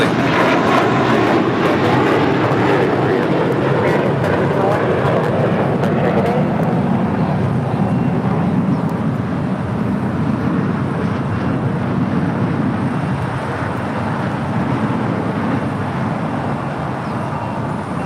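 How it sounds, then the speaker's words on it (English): A Korean Air Boeing 747 roars steadily on final approach into LAX, a loud, continuous broadband jet rumble that fills the whole stretch and eases only slightly toward the end. "Korean Air 747 making those final turns, heading into the southwest side of Tom Bradley."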